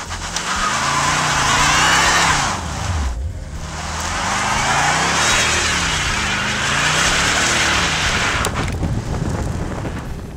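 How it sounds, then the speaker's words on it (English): A 2013 Bentley Mulsanne with twin turbos does a burnout, its tires squealing and hissing loudly under a low engine drone, with a brief dip around three seconds before the shrill scrubbing noise resumes for a long stretch. "you can do cool burnouts like this"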